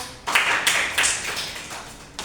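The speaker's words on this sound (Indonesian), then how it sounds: "silakan tepuk tangan dulu untuk kelompok 3" Pupils in a classroom clap for a group of classmates in a few short, uneven bursts of hand claps over a quiet background.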